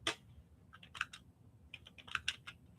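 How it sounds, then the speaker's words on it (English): Close, quiet tapping on a computer keyboard in short irregular bursts of keystrokes separated by pauses, with no talking. "I'm going to type it in the chat"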